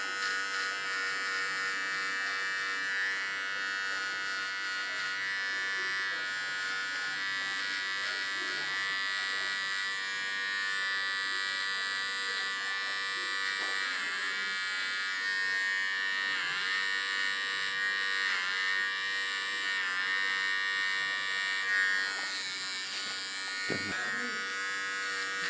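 A small electric hair clipper trims hair on a mohawk in a steady, close, high-pitched buzz lasting throughout, with slight pitch dips as it presses into hair and a brief pause near the end.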